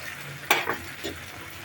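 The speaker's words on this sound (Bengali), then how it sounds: "ভালো করে নাড়িয়ে নেব।" Chilli paneer in a pan with sauce just added, being stirred: a soft sizzle with a couple of quick scraping strokes, the first one the loudest, and no voices.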